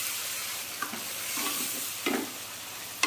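Onions sizzle and fry in a pressure cooker, a steady soft hiss broken by a few scraping stirs of a spoon, close and alone.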